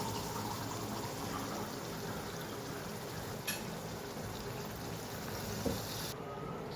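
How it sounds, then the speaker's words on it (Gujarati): A steady low bubbling and simmering from a pot of spiced mixture, continuous and fairly quiet, with a couple of faint clinks. "સરસ ઉકળી ગયું છે."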